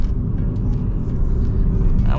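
A 2015 Honda Grace Hybrid car drives along with a dense, low engine and road rumble and a faint whir throughout.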